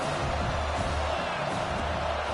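Stadium crowd noise in a college football video game, a steady roar of cheering and whoops at a third-and-eight moment, loud and continuous throughout.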